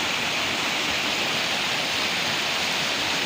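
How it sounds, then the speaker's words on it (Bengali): Water rushes steadily and loudly with a dense, unbroken hiss, like a strong flow pouring through a channel, with no voices over it. "আর জলের শব্দ কীরকম, যখন এটা ভরে যায় তখন দেখলে অবাক হবেন।"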